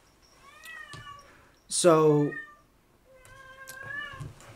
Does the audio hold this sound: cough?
no